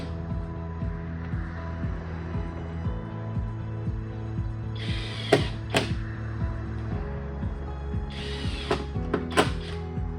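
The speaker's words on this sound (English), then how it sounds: "go through and tighten everything down" A socket ratchet tightening bolts while assembling a wooden Adirondack chair, with a steady run of close, rhythmic clicking pawl strokes broken by a few sharp knocks and rattles of hardware.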